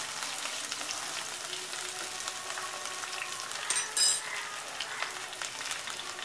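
Pumpkin soup ingredients with coriander are sautéed in a pan, making a steady, bright sizzle with light stirring and a brief utensil clink partway through.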